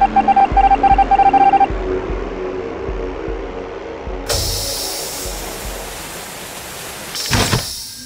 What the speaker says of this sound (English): the only thing that I used was the reactor alarm sound effect